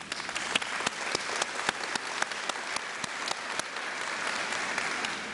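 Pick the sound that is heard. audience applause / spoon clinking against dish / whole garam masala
audience applause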